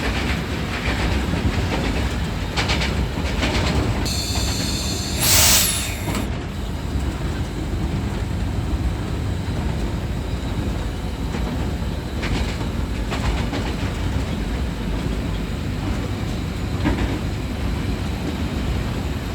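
The Green Line passenger train rolls past Lala Musa Junction in Pakistan, a loud, continuous rumble of wheels on rail with rhythmic clicks and a brief high squeal, heard close from on board.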